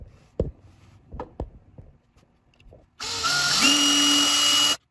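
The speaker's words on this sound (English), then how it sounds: "put them in some sort of a vise or someplace flat where I can drill a straight hole through both parts" A power drill bores a straight hole through 3D printed plastic parts of a 1/64 scale KT Pacer feed trailer, a steady high whine lasting nearly two seconds with its pitch stepping up partway, after a few light handling knocks.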